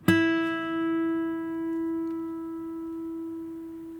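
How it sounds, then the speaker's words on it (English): A single plucked note on a Taylor acoustic guitar rings out clearly and slowly fades, its tone lingering for several seconds with no other sounds around it. "So it's easy to show you the sustain. Just listen how long this note lasts."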